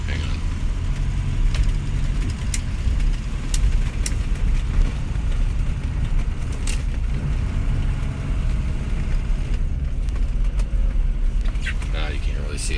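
A 2004 car being driven for diagnosis, its engine a steady low rumble with road noise throughout, while a person talks over it.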